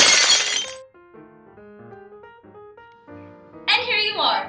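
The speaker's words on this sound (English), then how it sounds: "Now, take everything that you've made in your glass bowl and break it." A glass bowl smashed, a loud crashing shatter with scattering shards at the start and again near the end, separated by a stretch of soft tonal music with no talking.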